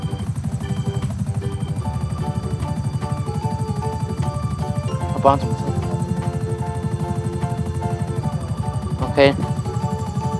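A helicopter-like aircraft drones steadily in the GTA 5 video game, a constant low rotor hum throughout, with someone talking over it and two brief sharp blips.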